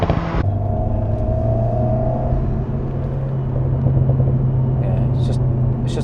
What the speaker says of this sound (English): make some revs and then here, go pop, pop, pop, pop, pop